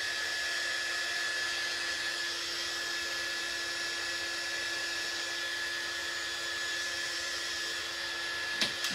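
A hair dryer blows steadily on a chalk stencil butterfly craft project, a loud, constant whooshing whine held for the whole stretch, close by, ending in a couple of small clicks.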